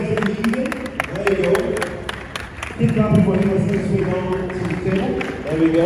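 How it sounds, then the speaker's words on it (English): An arena crowd claps and cheers for fighters walking in, a steady loud wash of applause and crowd noise with an announcer talking over it. "Keep clapping."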